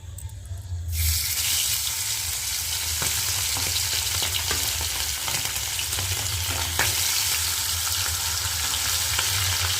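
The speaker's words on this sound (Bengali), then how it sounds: "এখন মাছগুলো দিয়ে দেবো।" Fish sizzles as it goes into hot oil in a small pan, with a sudden loud burst of frying after a quiet first second, then a steady crackling hiss throughout; no talking.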